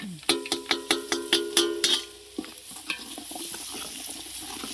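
Spices and cumin sizzling in hot oil in a large pot, opening with a rapid series of about ten sharp metallic ladle taps against the pot, then a steady frying hiss with softer stirring scrapes.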